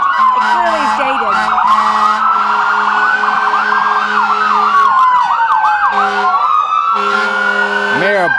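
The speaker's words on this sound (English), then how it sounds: "Mayor Bob Zabbia, of course, riding atop that classic fire engine" A classic fire engine's wailing siren rolls through a small-town Christmas parade, loud and close, sweeping up and down repeatedly with rapid yelps, over a steady horn-like tone and low engine rumble.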